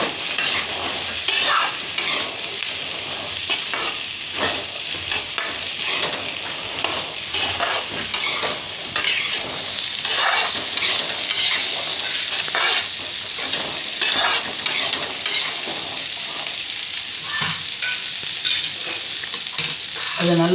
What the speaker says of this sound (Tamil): இப்போ நான் வேக வச்சு வடித்து வச்சுருக்க கொண்டக்கடலை மிக்ஸ் பண்ணிக்கிறேன்